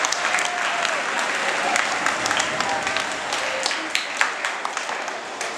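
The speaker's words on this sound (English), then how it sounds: "please give a big round of applause to our training" An audience at an aquarium marine show applauds, a dense, steady roar of many hands clapping with a few sharper individual claps standing out, continuing throughout.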